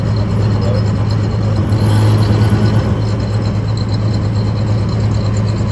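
A Mazda RX-7 with a 13B bridgeport rotary engine and individual throttle bodies drones loudly and steadily close by, a constant buzzing roar held through a pull without a break.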